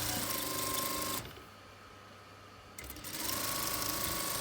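A sewing machine stitches a fabric face mask at close range with a fast, steady mechanical whir. It pauses briefly in the middle and then resumes at the same pace, with no talking over it.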